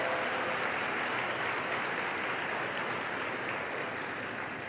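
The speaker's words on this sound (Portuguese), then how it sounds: "Pode aplaudir." Steady, dense applause from a church congregation during a sermon, a continuous even wash of many hands clapping that holds at a moderate, somewhat distant level for the whole stretch without a break.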